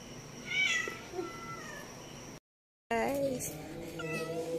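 A cat meows repeatedly, a few drawn-out, wavering cries close by, with a brief silent gap before louder, more insistent meowing resumes.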